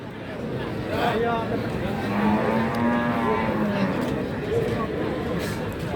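A cow lets out a long, drawn-out moo over a steady murmur of nearby voices and general outdoor bustle at a cattle market in Tuban, Indonesia.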